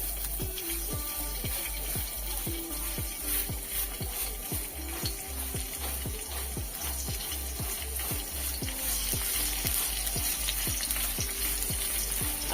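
Ivy gourd (kundru) pieces go into hot oil in a wok one at a time, each landing with a crisp pop over a continuous even sizzle.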